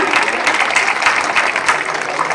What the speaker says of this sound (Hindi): आंटी जी के लिए एक बार जोरदार तालियां